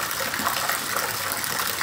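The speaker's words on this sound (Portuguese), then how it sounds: "E até agora, muita chuva caindo." Heavy rain pours down in Santa Luz, Bahia, a dense, continuous hiss of falling water, loud and close, with no pauses.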